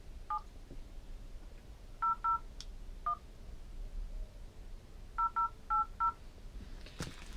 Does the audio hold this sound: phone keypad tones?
yes